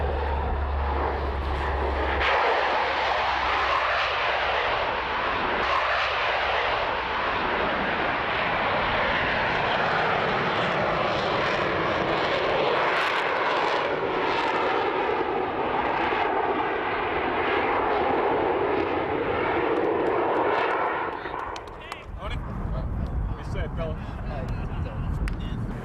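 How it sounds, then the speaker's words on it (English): A C-130 Hercules transport performs a jet assisted takeoff with four JATO rockets mounted on each side, a loud continuous roar of engines and rocket thrust holding steady for about twenty seconds before easing off, heard alone at airshow distance. "Fat Albert will be demonstrating the jet assisted takeoff capability of the C-130, commonly referred to as JATO."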